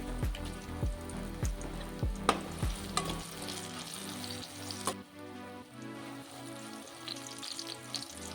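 Brinjal pieces fry in a pan with a light, crackling sizzle, punctuated early on by a few sharp knocks, then settling into a quieter steady frying with a low tonal hum underneath; no talking.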